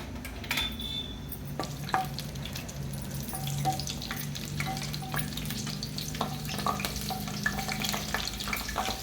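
Ivy gourd (dondakaya) fries in hot oil with a steady close sizzle, broken by occasional clinks of a stirring utensil against the pan.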